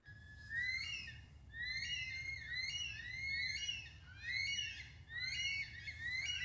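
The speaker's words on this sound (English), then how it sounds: "the bushstone curlew is a bit like a plover" Bush stone-curlew calling with a run of rising, wailing whistles that overlap in repeated loud phrases, eerie and continuous over a faint low background rumble, with no talking.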